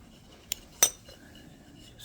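Titanium alcohol stove pot supports unfolding, two quick metallic clinks, the second louder and ringing briefly, in a quiet room.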